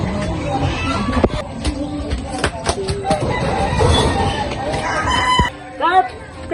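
A rooster crows and clucks nearby among other fowl, with repeated sharp calls and a long crow near the end over a busy outdoor background.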